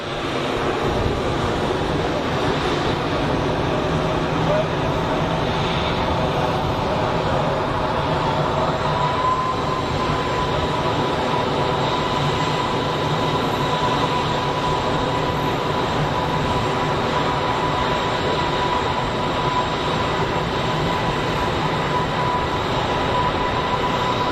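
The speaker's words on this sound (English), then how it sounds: "Brussels 319. Taxiing for departure." A Brussels Airlines Airbus A319 taxis for departure at Geneva Airport, producing a steady, loud broadband jet roar that holds constant throughout with no voices.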